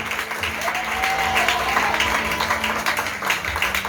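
A church congregation applauds steadily throughout, a dense, sustained clapping that stays even in loudness, with faint voices and cheering mixed underneath.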